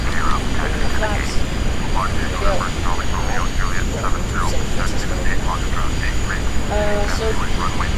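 Jet aircraft engine noise from Microsoft Flight Simulator X, a steady broadband roar held evenly throughout under continuous talking voices.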